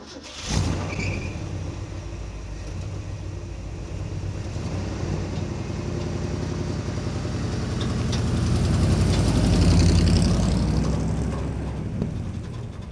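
A ramp truck's engine runs at a steady idle with a low, rough rumble that swells louder partway through and then eases back, close by and with no voices.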